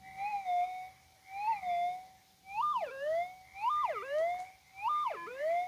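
A Garrett Axiom metal detector sweeps over gold about six inches below the coil, giving a clean electronic tone that warbles and repeats in rising, dipping pulses, several times in a row with no voices.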